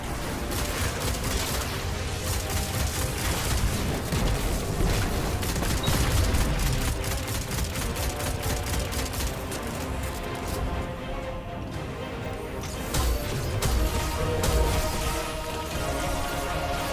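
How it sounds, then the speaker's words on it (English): Rapid, dense gunfire and booming blasts from Anarchy grenade launcher shots in the Destiny 2 video game, a loud continuous barrage with repeated explosions throughout. "They both will take 6 Anarchy shots at least."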